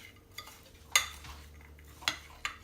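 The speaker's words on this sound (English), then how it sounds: "So I'm just going to give this a little stir" A utensil stirs caramelizing sugar with toasting walnuts in a pan, giving a few sharp, close clinks and scrapes over a faint, low sizzle.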